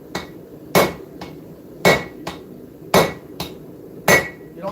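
A hammer forging metal on an anvil, with four heavy, ringing blows at an even pace, each followed by a lighter bounce tap, close and loud in a quiet workshop.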